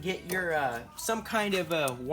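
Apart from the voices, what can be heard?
No everyday noises stand out.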